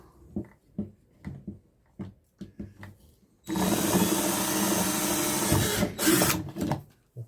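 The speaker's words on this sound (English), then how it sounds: "So what I then do is drill a little hole in there." A power drill bores a small hole into the underside of a unit, with a few brief clicks and knocks first, then a sustained loud whirring drill run that stops and restarts briefly near the end.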